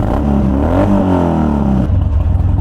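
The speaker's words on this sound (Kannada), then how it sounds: "ಸೊ ಅವರು ರೆವ್ ಕಾಯ್ತಾ ಇದ್ರು" A car engine revs hard and close, rising in pitch and then dropping back to a rough idle, loud and with no voices over it.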